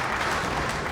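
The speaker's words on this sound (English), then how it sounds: "this crowd is coming alive here" A crowd applauding loudly at a Weber Cup bowling match, a dense steady wash of clapping filling the short moment without pause.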